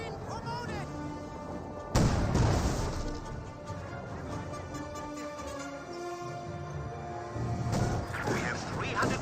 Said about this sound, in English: Barring the fact that there is a mortar hitting him.